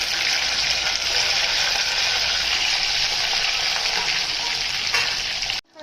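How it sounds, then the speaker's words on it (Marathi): Eggplant dropped into hot oil for tempering sizzles loudly and continuously, a dense frying hiss that holds steady for several seconds and then cuts off abruptly. "वांगे फोडणीला टाकायचे। तेल गरम झालेलं आहे"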